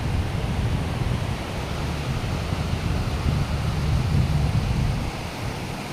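Steady broadband roar of big waves at Linau beach crashing continuously, with rumbling low-end wash and no voices.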